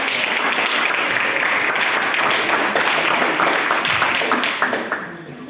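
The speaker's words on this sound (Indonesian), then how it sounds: "Kita tepuk tangan dulu untuk mereka." A school student-organization audience breaks into sustained applause, dense steady clapping that fills the room and begins to thin out near the end.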